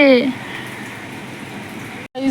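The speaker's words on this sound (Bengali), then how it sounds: "বাইরে বেরোতে পারছো না বৃষ্টি পড়ছে" Steady rain falls outside, a dense even hiss lasting throughout, with a brief voice at the start and a short gap near the end.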